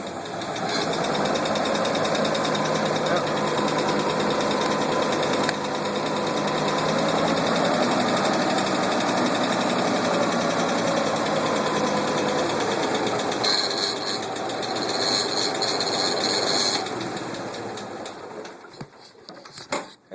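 A Ford 2000 tractor engine, freshly fitted with a battery, runs at a steady idle, a loud, close, continuous rumble with a fine rapid chug that wavers slightly in the middle and cuts off abruptly at the end.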